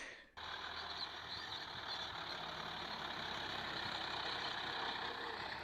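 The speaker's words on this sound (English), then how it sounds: "It's a rough tractor, but it was a nice tractor." Tractor engine running on a farm, heard as a steady loud droning rumble with a broad hiss that starts abruptly and continues unbroken to the end, with no talk.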